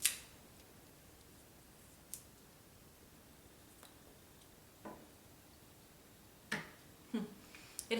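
A cigar cutter makes a straight cut on an A.J. Fernandez Enclave cigar, heard as a few faint, sharp snips and clicks spaced across a quiet room with no talking.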